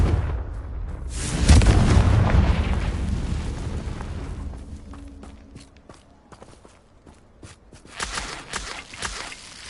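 A Confringo fire spell explodes in the Hogwarts Legacy video game, a deep rumbling boom that swells and slowly fades. Scattered clicks and thuds follow, and a burst of sharp game noises comes near the end.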